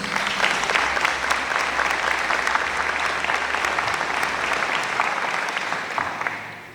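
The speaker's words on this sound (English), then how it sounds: "So a really quick round of applause for those individuals." Audience applause at the Ocean County Teacher of the Year Breakfast, a steady dense round of clapping from a large room that holds even for several seconds before tapering off at the end.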